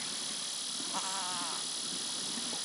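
A goat lets out one wavering, low bleat close by, its call said to resemble a cow's moo, set against a loud steady hiss that runs through the whole moment.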